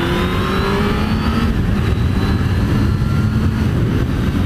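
A 1998 Suzuki GSX-R 750 SRAD inline-four motorcycle engine revs loud and close, with a continuous smooth roar whose pitch eases slightly downward and then holds steady throughout.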